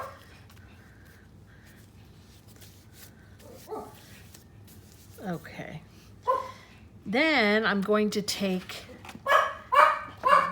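A puppy barks and yips in short, sharp bursts close by, starting sparse and then coming rapid and insistent, while someone talks over them.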